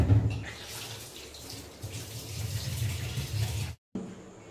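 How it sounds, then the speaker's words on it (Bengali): Tap water runs steadily over raw chicken being washed by hand in a kitchen sink, a close, continuous splashing stream that cuts off abruptly near the end and then resumes briefly. "এখন চিকেনটা ধুয়ে নেব।"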